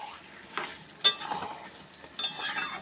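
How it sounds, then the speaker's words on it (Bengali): Chilli paneer ingredients are sautéed in oil, with a faint, quiet sizzle under three or four distinct stirring scrapes of a spatula against the pan. "এবার ভালো করে আমি একটু কষিয়ে নেব।"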